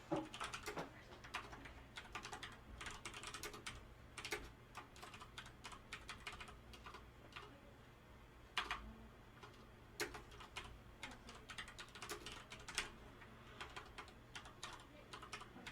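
Rapid, steady clatter of keys as code is typed on a computer keyboard, quiet and close, with irregular bursts of keystrokes and no talking.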